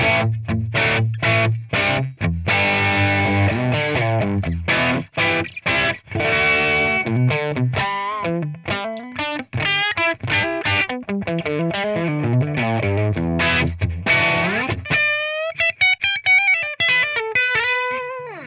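An electric guitar plays through a Tone King Royalist amp model with vintage Marshall-style gain and no reverb, giving a loud, distorted run of chords, then single-note lines that bend and sustain, cutting off dry between phrases.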